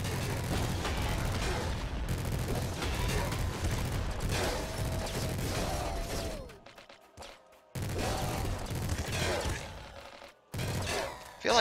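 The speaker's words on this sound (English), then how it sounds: "minigun and laser cannon is much more workable here" Rapid gunfire bursts from a minigun and laser cannon in the video game Nuclear Throne, dense, continuous clatter broken by short pauses and some rising electronic tones, loud and close with speech faintly underneath.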